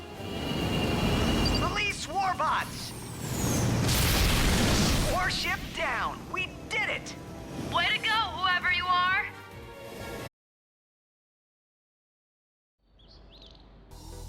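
Warship explosion in the Ratchet and Clank video game, a loud bursting boom mixed with game effects and voiced dialogue, followed by a sudden silence and a faint return of sound.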